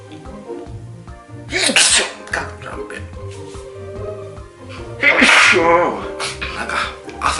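Two loud, explosive sneezes burst out a few seconds apart, each a sharp noisy blast, over a background of mobile game sounds and music.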